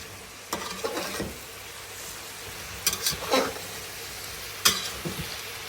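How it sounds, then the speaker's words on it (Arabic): Masmouta being stirred in a pot, a few scraping, sloshing stirs against faint sizzling from the heat, close and fairly quiet, with long stretches of low steady background between strokes. "هسه نجي نقلبهن شوية."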